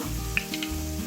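Mustard seeds sizzling and beginning to pop in hot coconut oil in a pan, a steady close frying hiss with a single sharp crackle and a few soft spits over about a second, no voices.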